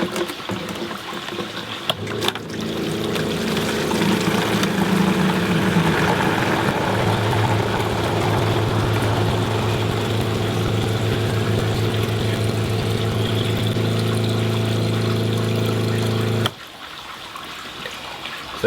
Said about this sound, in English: we're going to set up a couple of tests and time how long it takes to fill up 10 litres with this particular pump